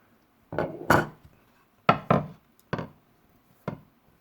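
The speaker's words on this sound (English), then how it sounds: "put the cube cut tobacco, in this case Gawith and Hogarth Brown Irish X. Just give it a good little chop there." A knife chops Gawith and Hogarth Brown Irish X rope tobacco on a cutting board in six sharp, woody knocks at uneven intervals, close and clear with near silence between strikes.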